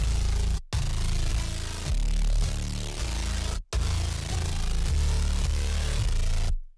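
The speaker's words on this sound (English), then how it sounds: "I added the intro bass back, but without all the flanger effects" A dark, heavy bass line in a trap beat outro plays dry without flanger effects, loud and distorted, with two brief drops in the loop.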